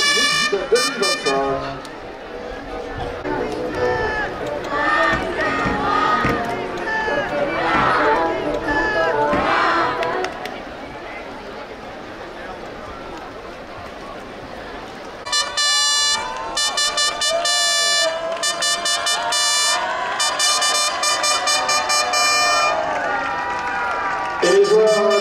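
Supporters at a mixed Coupe de France match cheer and applaud in a continuous crowd roar, with horns tooting loudly in the latter half, while a French commentator talks over it.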